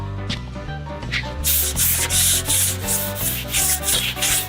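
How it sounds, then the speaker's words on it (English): A dual-action sander with 320 grit works over truck bodywork in a paint shop, a close, steady rasping hum with rhythmic surges of scratching as the pad moves across the panel, over a music background. "I'm gonna DA 320 it, and then hand sand it 500, get on my edges"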